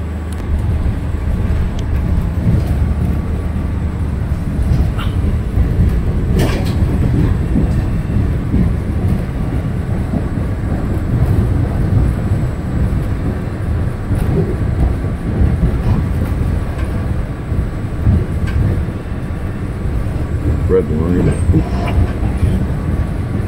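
An MBTA T subway train rumbles steadily on its way to Braintree station in Massachusetts, a loud continuous roar of wheels and car noise with occasional clanks and squeals.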